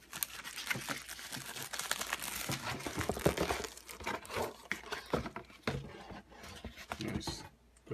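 Packaging from an Amazon UK parcel crinkles and crunches through a steady run of rustling, tearing handling noise, close and fairly busy, with someone speaking over it.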